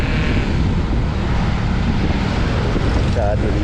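A Honda CBR150R motorcycle engine runs with noticeably strong vibration, a steady low rumble heard close while riding, partly buried under heavy wind buffeting.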